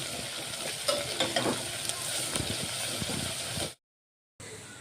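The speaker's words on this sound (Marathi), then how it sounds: "अदरक लसूण शिजू द्यायचं आपल्याला" Ginger-garlic paste fries and sizzles in a pan with steady hissing and occasional stirring scrapes, close and continuous, cutting out briefly near the end before resuming.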